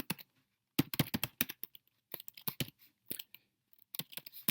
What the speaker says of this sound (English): sorry about my typing here